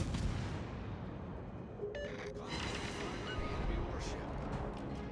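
Warship guns firing in the naval game World of Warships, with the Almirante Grau cruiser, as a dense rumble of distant booms under continuous low noise, plus a sharper burst near the middle.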